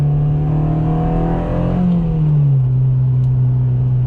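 Engine of a 2007 Honda Civic Si with 200k miles, heard from inside as it pulls and revs up, pitch rising steadily, then easing back to a lower steady drone.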